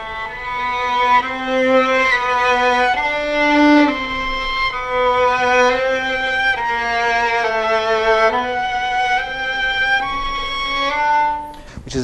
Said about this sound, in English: this is called ponticello, which means playing on the bridge